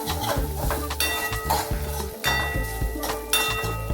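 Grated ginger and turmeric being sautéed for a winter soup, heard as repeated close scraping and clinking of a metal spoon against the pan over a light sizzle, in uneven bursts.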